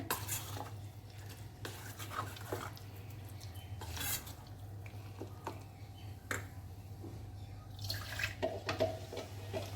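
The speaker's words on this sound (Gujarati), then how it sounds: "બરાબર મિક્સ કરી લઈશું બધું।" Homemade makai dhokla batter being stirred and mixed in a bowl, with wet sloshing, a spoon scraping, and sharp clinks against the side repeating at an uneven pace close by. No one talks.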